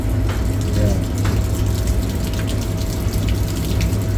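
Hot water runs steadily from a tap after repair of an Ariston water heater in a chip shop, a continuous close rushing gush with a pump-like hum, while voices talk intermittently over it.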